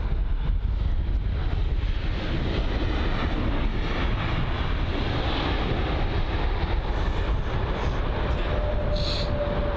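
A Boeing 777 landing at London Heathrow, heard as a continuous loud broadband roar of engines and rushing air with heavy wind buffeting on the microphone, steady throughout and with no talking.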